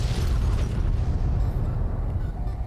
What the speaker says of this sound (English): Could the explosion stop?